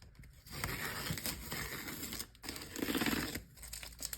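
Masking tape being peeled slowly off watercolor paper, close and loud, in two long tearing strips separated by a short pause.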